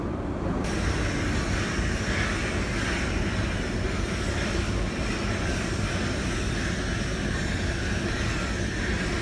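Metro train and station ambience, a loud, steady broadband rumble and rush of a train with a constant mechanical drone, close and unbroken, no voices.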